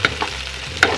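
Chopped garlic and red and white onion frying in a pan for sinigang, a brief sizzle with two quick stirring scrapes, close and alone.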